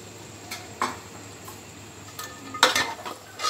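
Banana stem being stirred into a masala gravy in a pan gives a few quiet, scattered scrapes and light clinks against a soft kitchen background, with no one speaking.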